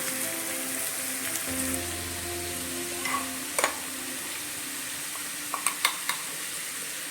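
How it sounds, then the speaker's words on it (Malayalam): Two medium sliced onions sautéing in oil for fish biryani, a steady soft sizzle with a few faint stirring clicks near the end. "2 മീഡിയം സൈസിലെ സവോള നല്ലതായിട്ട് വഴറ്റിയെടുക്കാം"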